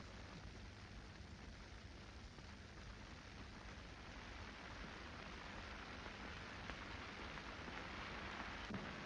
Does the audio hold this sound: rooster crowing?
no